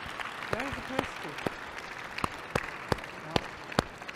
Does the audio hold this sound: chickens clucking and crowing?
no